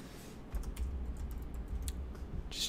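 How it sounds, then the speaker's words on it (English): Rapid clicking of computer keyboard typing, with steady close keystrokes running throughout the short stretch and a brighter burst of clicks near the end. "I'll be checking in with my mouse and keyboard."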